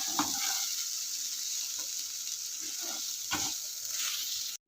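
Schezwan fried rice frying in a pan, with a steady close sizzle and periodic scraping and tossing of the spatula that recurs about once a second.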